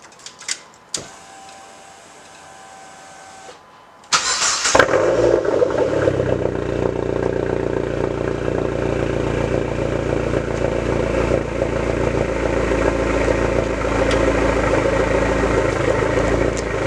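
A Dodge SRT4 with a newly fitted 3-inch downpipe and exhaust idles after a few clicks and a quiet lull, then settles into a steady, loud, rumbling engine drone that holds evenly through to the end.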